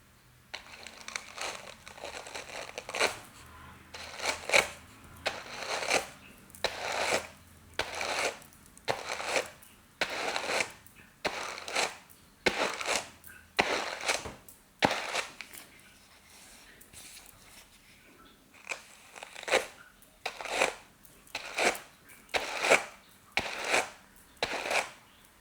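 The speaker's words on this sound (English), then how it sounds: "put them on my hand carder. Now let's see if I can card this into a cloud." Hand carder working short fiber scraps into a cloud, with rhythmic scratchy brushing strokes repeated about once a second in steady bursts, close and clear, with a short pause midway.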